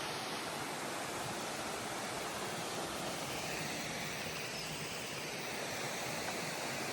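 A waterfall in Coorg pours continuously, a dense, steady broadband rush with no breaks, loud and close, with no voices.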